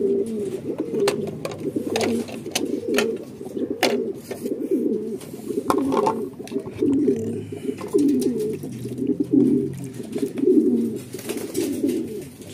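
Racing pigeons back from a race coo steadily and close by in a loft, a continuous low rolling chorus of overlapping calls with a few faint chirps on top and no talking.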